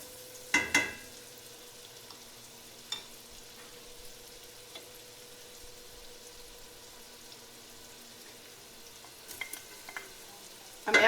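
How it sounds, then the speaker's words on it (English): Shallots, salt, pepper and red pepper flakes cook in melted butter in a pot with a faint, steady low sizzle, broken by a few brief clanks of utensils at the start and end. "I added the shallots, salt, pepper, and red pepper flakes to the melted butter"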